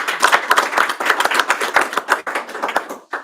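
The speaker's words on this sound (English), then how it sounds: "A round of applause." A room at a school board meeting breaks into applause after an award for the year's school business official, with many hands clapping in a bright, steady patter that thins out toward the end.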